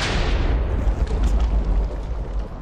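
A lightning strike in Minecraft Lucky Skywars lands as a loud, close boom with a sharp crack at the start and a long rumbling tail. No voices accompany it.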